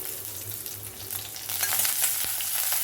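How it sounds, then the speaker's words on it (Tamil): Peeled garlic frying in sesame oil in a kadai, a steady soft sizzle with crackling pops that grows a little louder partway through, heard close and alone without speech. "கொஞ்சம் கடாயில் நல்லெண்ணெய் விட்டுருக்கேன் பூண்டு கட்டு போட்டுலாம் பூண்டு நல்லா வதங்கட்டும்"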